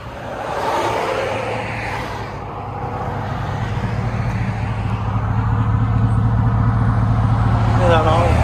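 A 2011 Chevy Avalanche with a 5.3L V8, a Carven Type R 9-inch bottle muffler and a 6-inch tip idles close by in a steady, deep, even rumble, with a voice talking over it.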